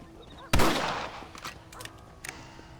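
A single loud rifle shot cracks sharply in the Western video game Red Dead Redemption, then fades into a short echoing tail with faint follow-up pops and quiet voices.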